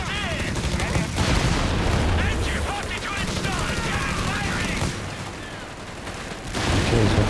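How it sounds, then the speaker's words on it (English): Rapid gunfire and explosions crackle through a dense, continuous battle in the real-time strategy game Company of Heroes 3, with machine gun bursts mixed among other weapons, loud and unbroken across the whole stretch. "he's got machine gun now"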